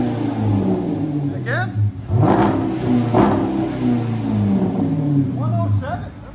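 Exhaust of a Dodge Durango R/T with the 5.7L HEMI V8 revving: a loud, deep rumble that rises and falls through several throttle blips close by, while people talk excitedly over it.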